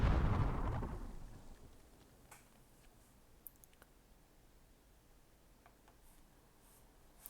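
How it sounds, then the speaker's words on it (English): A single deep mortar blast booms out on a battlefield in the strategy game Myth II: Soulblighter, loud at first and then rumbling away over about a second, leaving a quiet field with a few faint scattered clicks. "Almost a good mortar there."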